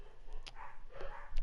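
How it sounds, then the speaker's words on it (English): Dogs barking in a home behind an online PS4 esports match broadcast, a few short muffled barks at moderate distance under quiet background noise. "That was my dogs."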